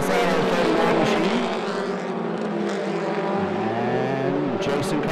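Mini stock race cars race around a speedway, engines roaring loudly as they pass, with rising and falling engine pitch and a continuous wash of crowd and track noise.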